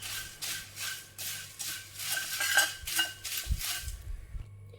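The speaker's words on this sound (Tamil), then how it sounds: "இப்போ நம்ம இந்த சமயத்தில் இறக்கி வேறு பாத்திரத்தில் மாற்றிக்கலாம்" Lightly roasted puffed rice tipped out of a pan into another vessel, heard as rhythmic pulses of rattling and scraping with metal clinks, close and moderate in level, ending in a few dull knocks.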